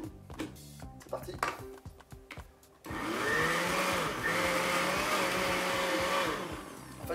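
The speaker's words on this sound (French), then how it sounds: "Alors, on essaie de mixer." A kitchen blender purees cooked cauliflower for a creamy mash, starting after a few seconds of clattering and handling, then running as a loud steady whir whose pitch shifts slightly as the thick mixture churns.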